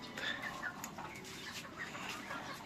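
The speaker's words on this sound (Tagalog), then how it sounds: "Ito yung mga stag ko ngayon." Young gamecock stags clucking softly in a pen, low and steady with scattered short calls at moderate distance throughout.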